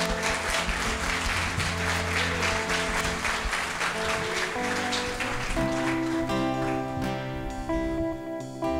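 A church congregation at an anniversary service gives a loud, sustained round of applause, which fades as music rises underneath and takes over toward the end.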